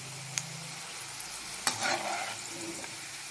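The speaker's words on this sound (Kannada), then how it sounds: "ಫ್ರೈ ಆಗಲಿ, ಇದು ಫುಲ್ ಬ್ರೌನ್ ಕಲರ್ ಬರಬೇಕಿದು." Chicken frying in a pan for Muslim-style chicken dum biryani, cooked until fully brown: a low, steady sizzle with sharp stirring scrapes and clatters, one louder burst midway, no talking.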